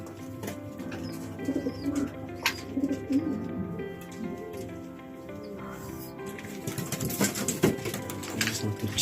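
Racing pigeons coo softly and repeatedly inside a loft, mixed with faint chirps and shuffling at close range, with no talking.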